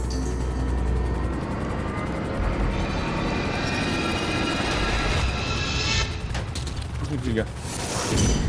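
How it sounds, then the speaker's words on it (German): An airplane in the GTA roleplay game, a loud continuous engine drone with mechanical whirring that rises and shifts as it passes overhead, ending in a few clattering bursts. "Flieger."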